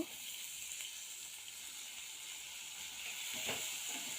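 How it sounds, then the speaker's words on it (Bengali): Chopped potato and chili fry in a pan with a soft, continuous sizzle and hiss, faint and even throughout with slight swells, with no talk. "লঙ্কা কুচি দিয়ে দিয়েছি লাল লাল করে ভেজে নেবো"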